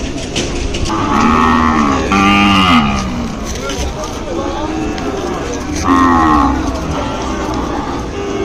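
Several Ongole cattle moo loudly nearby at a cattle market in Kodad, long drawn-out calls overlapping one another against a noisy outdoor background.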